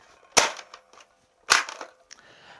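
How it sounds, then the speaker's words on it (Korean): Plastic side cover on a LEHUI TOYS M416 toy blaster snaps shut: two sharp close clacks about a second apart, each trailed by small rattling clicks. "탄창 멈춤을 누르면 자동으로 커버가 닫힙니다"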